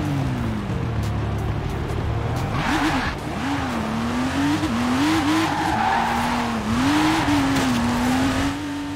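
A Porsche revving for a launch-control start in the video game Forza Horizon 4: a loud, sustained engine drone that wavers up and down in pitch, with tire squeal and whooshing noise throughout.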